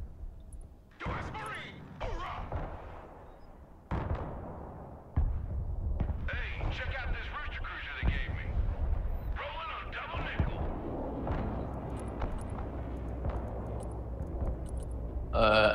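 Artillery fire in the multiplayer war game Broken Arrow, with several heavy booms and rumbling impacts spread across the stretch, mixed under game noise and people talking.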